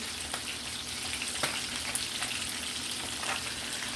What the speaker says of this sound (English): The oil has to be hot, so we're frying